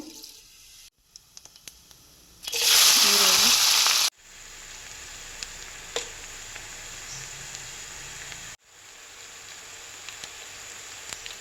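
Cumin seeds dropped into hot oil for Kannada rajma gravy, a loud burst of sizzling followed by a steadier, quieter frying hiss with a few faint clicks, close by and without talk.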